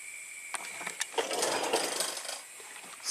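Ratchet clicks tightening an air suspension line fitting on a 2014 Audi Q7 TDI with a leaking right rear, a quick series of close metallic clicks in uneven bursts with no talk.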